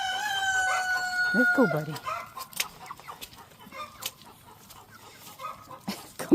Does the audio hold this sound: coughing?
no